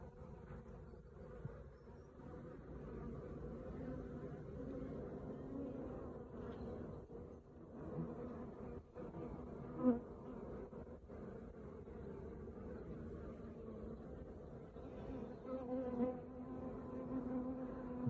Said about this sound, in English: Quite a lot of bees checking her out.